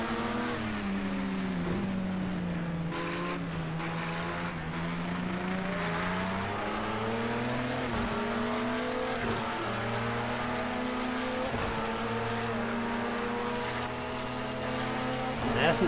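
Sports-prototype race car engines roar steadily in the racing game Project CARS 2, a sustained layered drone with rising and falling pitch as several cars run close together, filling the whole stretch without pause.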